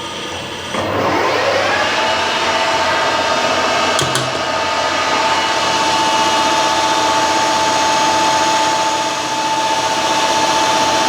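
A milling machine cuts an alloy steel screw for a milling vice at about 925 RPM with a shallow 0.2 mm pass. It spins up after a moment into a loud, steady whine over a broad hum, with one brief click partway through.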